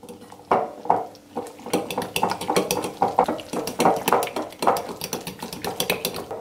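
A spoon stirs an egg, tomato and flour mixture in a bowl for a mini tomato omelette, giving quick, rhythmic clinks and scrapes against the bowl, close and fairly loud, with no talking.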